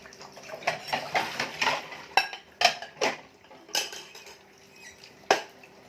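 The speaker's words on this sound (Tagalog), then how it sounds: "maghugas tayo ng plato guys" Plates and dishes being washed by hand, ceramic and cutlery clinking and knocking in irregular bursts alongside splashes of water, close and fairly loud with no talking.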